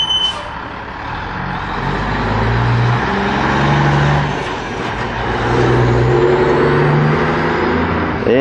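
A passing dump truck's engine rumbles loudly and close, swelling and fading as it brakes without fully stopping, with a brief high beep near the start.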